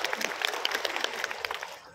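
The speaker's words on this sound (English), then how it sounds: "And we give a clap for where we are today," An audience claps together at a launch event's welcome program, a dense patter of hands that fades away after about two seconds.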